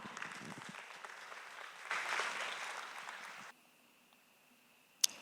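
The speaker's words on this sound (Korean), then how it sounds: "여러분 큰 박수로 환영해 주시기 바랍니다." An audience at an international toilet culture conference applauds to welcome a keynote speaker, a Seoul National University professor. The steady clapping swells midway, then stops abruptly, leaving near silence broken by one sharp knock.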